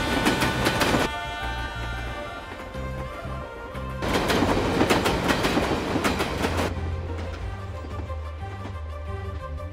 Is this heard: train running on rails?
yes